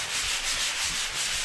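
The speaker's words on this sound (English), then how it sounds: "you can take your sanding sponge and just lightly brush it all" A sanding sponge rubs lightly over drywall in a bathroom remodel, giving soft rhythmic back-and-forth scratchy strokes, close and steady with no voices.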